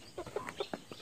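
A hen clucking nearby at a home yard, a quick run of short, throaty clucks in an uneven rhythm, heard alone at moderate loudness.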